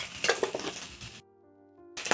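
Bacon frying in a pan gives a dense, steady sizzle with utensil scraping and clinks against the pan, broken by a short lull with a faint low hum before the crackle returns.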